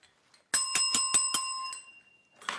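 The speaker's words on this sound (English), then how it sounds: "I have a bell in here." A bicycle-style push-up bell rung five times in quick even succession, bright and close with lingering ring, followed by a brief faint sound after a pause.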